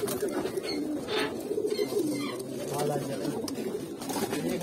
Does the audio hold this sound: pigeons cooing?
yes